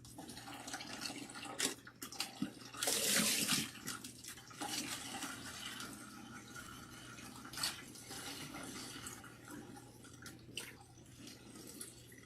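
Water from a bucket pours over natural hair during a rinse, with one heavy splashing gush and scattered drips and trickles around it, close and fairly quiet.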